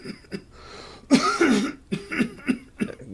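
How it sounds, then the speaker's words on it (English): A person coughs several times, rough and throaty bursts with short gaps between them, up close and without any speech. "Guess you'll be glad to get rid of that cough."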